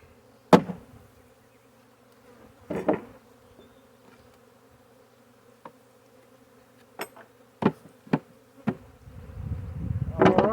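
A honey bee swarm hums in a low, steady drone, joined by a few sharp knocks and taps nearby, with the buzzing swelling louder toward the end.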